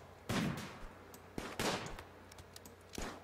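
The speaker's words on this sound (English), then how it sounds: "We now got a few people shooting." Gunfire in the colony game Rimworld: a few separate sharp shots spaced irregularly over a few seconds, fairly faint with game ambience between them.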